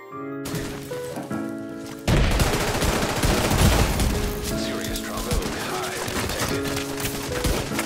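Rapid bursts of pistol and rifle gunfire in a Division 2 PvP firefight, loud and near with impacts and booms, mixed with game music and excited players talking over it.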